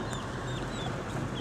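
Chickens clucking softly in a backyard coop during a tropical storm, a few faint bird calls over a steady broad wash of rain or wind noise, no talk.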